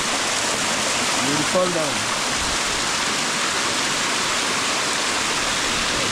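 A natural waterfall near a village gives off a steady, loud broadband rush that fills the whole stretch, while a person speaks briefly over it early on.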